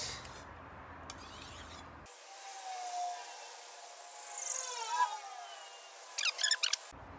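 A blade rasps steadily in repeated strokes across an 8,000 grit whetstone, its soft scraping even and close, broken by a short gap and a few brighter scrapes near the end.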